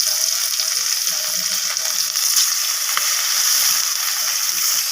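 Turmeric- and salt-coated rohu fish pieces frying in hot oil in a pan, a steady close sizzle with faint crackles and an occasional utensil tap, no talking.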